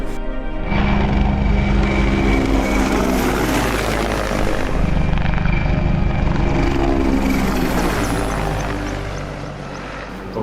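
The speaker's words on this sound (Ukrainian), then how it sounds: "Ця наша авіація, гелікоптери." Military helicopters pass overhead, a loud continuous rotor and engine roar with deep pulsing that fills the whole stretch, swelling and then easing slightly as they move off.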